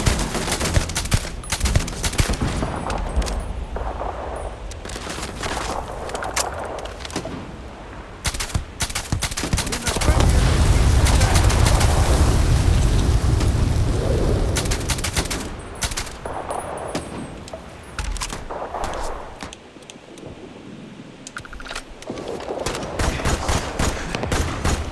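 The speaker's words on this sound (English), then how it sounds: "I'm not sure who's shooting here." Video game gunfire in Starfield rattles in repeated rapid bursts and scattered single shots, loud and close, pausing briefly between volleys, with a heavier sustained roar of fire midway through.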